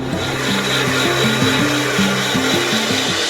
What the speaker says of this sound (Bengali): মশলাটাকে আমি মিক্সিতে ঘুরিয়ে নিচ্ছি